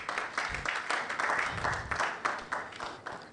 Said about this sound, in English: Please give her another big round of applause